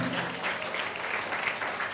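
Audience applause at a kids' Christmas celebration, clapping for the teachers and parents: a steady, even patter of many hands that fills the whole moment at moderate distance.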